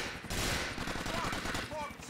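Gold SMG fire in the video game GTA IV: The Ballad of Gay Tony, rapid automatic bursts crackling loudly throughout, mixed with other game sounds and a voice talking.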